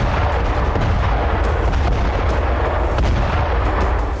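Heavy, continuous rumbling blast noise from an Israeli drone strike on a building in Jenin in the West Bank, loud and sustained with dense crackling bursts throughout, no voices.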